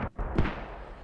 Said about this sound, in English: you can hear the mortars going out